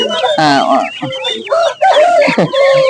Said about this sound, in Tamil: நாட்டுக்கோழியில சோனாலி சோனாலி ரகம்